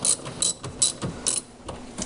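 A hand ratchet loosens the ground terminal on a 2010 Toyota Prius battery, giving a rapid run of close, crisp clicking strokes in a steady back-and-forth rhythm with no talk.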